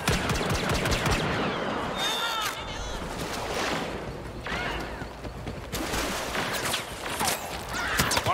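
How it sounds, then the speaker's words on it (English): Rapid bursts of blaster fire crackle in a Star Wars Battlefront battle, dense and continuous over game ambience, with voices speaking at times. "You don't like blaster fire?"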